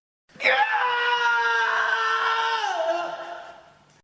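A blood-curdling scream rings out loud and close, a sustained high shrill wail holding for about three seconds before its pitch drops and it fades away.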